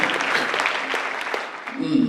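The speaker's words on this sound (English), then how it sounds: "Give Luke a round of applause, ladies and gentlemen" An audience applauds for Luke at a school dinner event, with a steady wash of clapping throughout that swells again near the end.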